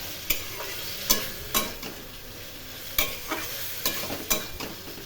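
Fish and vegetables sautéing in a pan for fish curry with rui fish, a soft continuous sizzle broken by about eight sharp spatula scrapes and knocks at irregular intervals.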